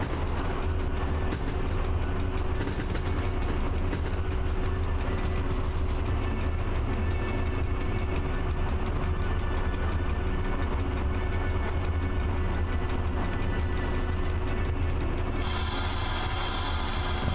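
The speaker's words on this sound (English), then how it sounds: "Let's introduce some locomotive brake to slow us down." Freight train locomotive in the Train Driver 2 game braking, a steady loud rumble with grinding, rubbing rail noise throughout and a higher squealing tone appearing near the end, no talk.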